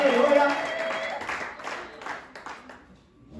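A church congregation claps during a worship service, a dense burst of applause at the start that fades under a worship leader's voice, which continues talking over the thinning claps.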